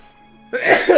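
A sneeze or cough from a game character bursts in after half a second of near silence, a loud broad explosive burst with a second smaller push near the end.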